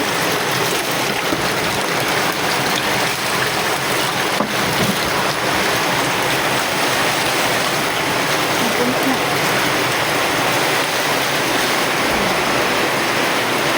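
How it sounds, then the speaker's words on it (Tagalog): Heavy rainwater gushing down like a waterfall, a loud, dense, continuous roar of pouring and splashing water that fills the whole clip, with no voices standing out above it. "Ayan yung aming waterfalls, guys."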